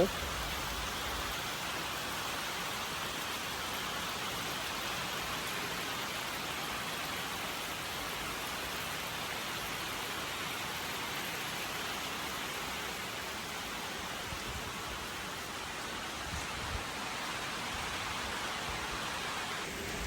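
Steady rain falling over a Cambodian village, an even, hissing wash of drops at moderate distance, continuous and unbroken, with faint speech at times underneath.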